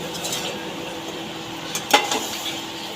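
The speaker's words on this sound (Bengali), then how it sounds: "কাঁটাগুলো দিয়ে এটাকে ভালো করে কষবো।" Bhetki fish bones and spices are stirred and fried in a pan: a low background sizzle with soft scraping, and a sharp metallic clink of the spoon against the pan near the middle.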